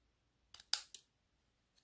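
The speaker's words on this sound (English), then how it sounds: "I'm going to bring my snips in, and I'm just going to cut that off." Metal snips cutting off a spare piece of card stock, a few quick crisp snips close up in an otherwise quiet room.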